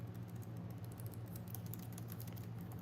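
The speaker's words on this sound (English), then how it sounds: "I hope I typed that right, Lois." Rapid clicking of fingers typing on a computer keyboard, light and steady over a low constant hum, with no voices.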